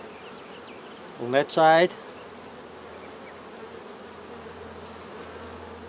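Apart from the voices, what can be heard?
honey bees buzzing on hive frame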